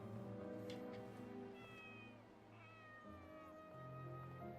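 A cat in the Inazuma Eleven game gives a few soft, drawn-out meows over a low background hum. The calls are faint and closely spaced, and the pitch wavers.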